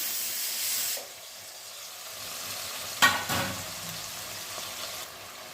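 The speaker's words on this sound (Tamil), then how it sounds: "இப்போ கத்திரிக்காயும் சேர்த்து நல்லா வதக்கிக்கணும்" Brinjal and tomatoes sautéing in a pan for a village-style curry, a soft sizzle that eases after a second, with a sharp stir or scrape near the middle and frying continuing quietly.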